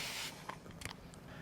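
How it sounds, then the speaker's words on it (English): A Nifty Notions spray mister sends a short, soft hiss of mist onto skirt fabric while darts are pressed. It is followed by faint, quiet handling clicks. "Just get your Nifty Notion spray mister"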